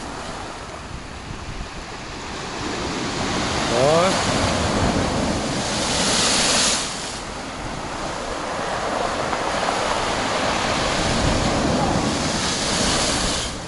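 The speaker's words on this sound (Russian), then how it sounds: "Такие здесь волны." Storm surf crashing onto a beach, broad roaring waves surging and breaking continuously, with loud wind buffeting the microphone and a brief voice exclamation.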